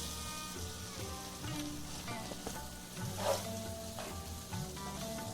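Marinated pieces of food fry in a pan with a steady, close sizzle and crackle and a few louder pops, and no talking over it.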